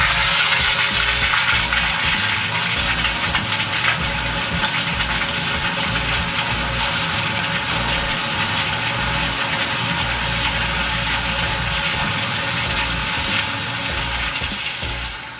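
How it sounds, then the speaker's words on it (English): A long, loud, strong apartment toilet flush in a Manhattan apartment rushes continuously at close range for the full stretch, easing slightly only near the end. "our toilet flushes so long and so loud"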